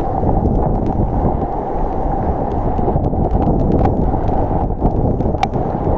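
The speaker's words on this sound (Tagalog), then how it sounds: "Ang lakas talaga ng agos ng tubig." Loud, continuous roar of fast-moving floodwater rushing past at close range, a dense steady wash with no voices.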